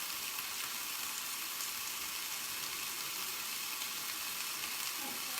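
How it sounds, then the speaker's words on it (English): Corn and shrimp soup stirred in a pot, a steady broadband bubbling hiss running evenly throughout with no clear individual spoon strokes. "Let me get my soup a stir."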